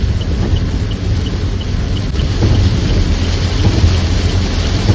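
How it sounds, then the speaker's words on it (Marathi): Heavy rain pours down during a night drive on the road past Chiplun in Konkan, a dense, steady roar close around the vehicle with low rumbling underneath, continuous and loud throughout. "आता खरा पाऊस यायला लागला."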